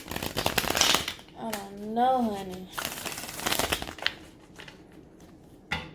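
Crisp riffling and clattering of shuffled cards in short bursts, with a voice speaking briefly over the handling noise.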